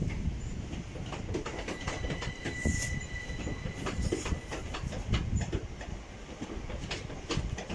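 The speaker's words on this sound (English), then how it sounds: "an IET arriving towards Western Supermare" A Class 800 IET train arriving at Didcot Parkway station on the Great Western Main Line, a loud, close rumble of wheels and carriages with rhythmic clatter and a brief high squeal.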